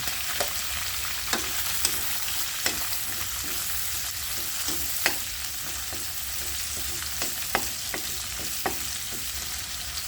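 Garlic sizzles steadily in a hot pan of oil while cooking for sweet and sour spicy chicken, a close, even crackle with sharp pops scattered throughout and no voices.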